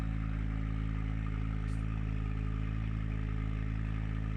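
A Ford Focus ST engine with a custom exhaust idling, a steady low droning hum with a constant even pulse and faint clatter, heard at moderate distance without talk.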